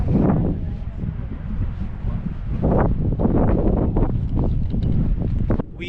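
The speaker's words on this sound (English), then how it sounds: "It's very windy" Strong wind gusts buffet the microphone at the end of a walking trail in Cape Breton in fall, a loud continuous rumble and rustle that fills the whole stretch.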